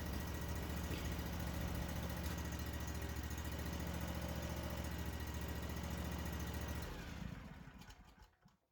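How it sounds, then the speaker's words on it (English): A Ferris zero-turn lawn mower engine idles steadily and loudly with a low rumble, then shuts off and winds down to quiet near the end. "So we let the engine run for a minute or two and just let it circulate."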